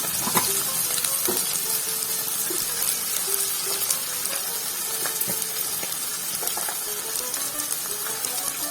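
Curry leaves and turmeric sizzling in hot oil while making raw banana fry, a loud, dense, steady crackle with scattered clicks and scrapes from stirring, heard close up and with no one talking.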